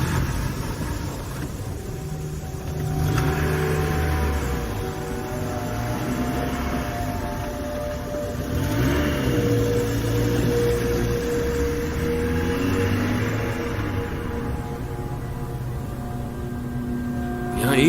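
A car travelling at night on an unlit, accident-prone road, with a steady interior engine drone and road rumble that rises and falls with the driving, continuous and close.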